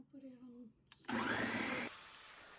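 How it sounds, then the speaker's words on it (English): An electric kitchen blender whirs loudly through plantain masa for a burst of under a second, after some brief talk and a click as it switches on; a quieter hiss follows once it stops. "And this is the only blender I have."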